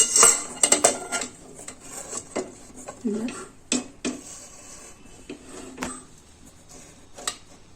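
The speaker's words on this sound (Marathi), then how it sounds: "हा जो डब्बा आहे तो मी या कुकरमध्ये ठेवून घेते" A metal cake tin is set down inside a preheated pressure cooker on a low gas flame, making a close series of sharp metallic clinks, knocks and scrapes, with a voice briefly heard.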